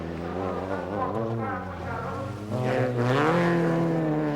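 A rally car in a 1990 Race of Champions semi-final run nears the finish line, its engine a loud droning tone that rises and falls through gear changes and swells as it closes in, with a commentator's voice over it.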